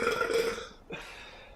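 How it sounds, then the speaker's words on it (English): A person lets out a single long, loud burp that trails off into a softer, rougher tail. "Excuse me, I think it's working. That's the third burp."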